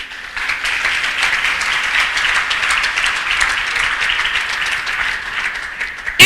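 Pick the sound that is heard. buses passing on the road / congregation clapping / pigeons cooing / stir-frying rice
congregation clapping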